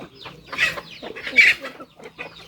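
Chickens clucking near a backyard vegetable plot on a self-sufficient family smallholding, with repeated close, loud bursts of clucks and squawks in an irregular rhythm.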